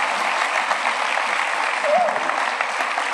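Church congregation applauding during a Sunday school service in a cathedral, a dense, steady wash of many hands clapping at close range, with a brief sung or voiced tone rising faintly above the crowd midway.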